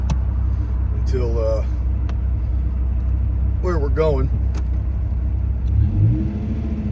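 A Dodge Viper's engine rumbles low and steady, then revs up sharply twice in rising, wailing bursts, with a final lower surge near the end, close and loud beneath brief talk.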